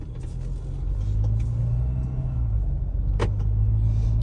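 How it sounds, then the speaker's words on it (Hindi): The Mahindra Scorpio N SUV's engine hums low and steady from inside the cabin while driving slowly over a rough, broken road, with a deep drone, occasional knocks and rattles from the bumpy surface, and no talking. "तो थोड़ा सा गाड़ी का साउंड पता चले कि किस तरह का साउंड आ रहा है गाड़ी में"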